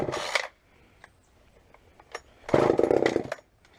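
A Poulan chainsaw on half choke is pull-started. Two short, loud bursts of sputtering engine noise are separated by a quiet gap with faint clicks, and the second burst runs about a second before cutting out.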